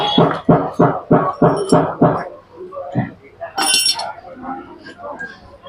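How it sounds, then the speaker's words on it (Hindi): A wrench works two 10 mm bolts on the starter motor of a KTM Duke motorcycle, opening with a quick run of sharp metallic clicks. Scattered clinks and someone talking follow. "ये पहले हमें 10 नंबर के 2 बोल्ट खोलने हैं।"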